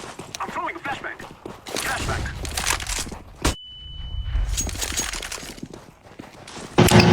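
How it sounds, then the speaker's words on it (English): A flashbang grenade goes off in Counter-Strike: Global Offensive, a sudden sharp bang with a high whine trailing after it, set inside a busy deathmatch full of other gunfire and game noise. "I'm throwing a flashbang."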